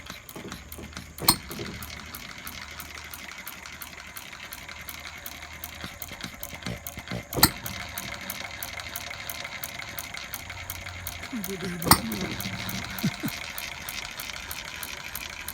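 A 1/4 scale IHC Famous model hit-and-miss engine runs steadily with a continuous mechanical chugging rhythm, marked by a few sharper louder pops spaced several seconds apart.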